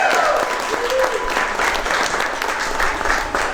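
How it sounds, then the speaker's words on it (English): Wedding guests applaud a toast at a reception, steady dense clapping filling the room throughout, with faint crowd murmur underneath. "Let's give them a big round of applause."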